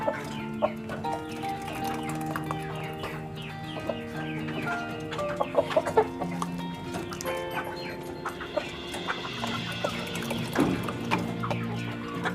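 Chickens cluck and squawk continuously, close and fairly loud, as they are fed homemade alternative feed, with overlapping calls and occasional sharper cries.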